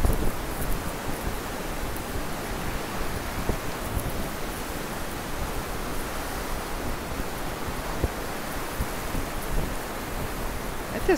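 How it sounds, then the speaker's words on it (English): Crashing ocean waves at a windy beach, a constant broad roar of surf and wind that stays steady and fairly loud throughout without distinct breaks. "Check out the crashing waves behind me."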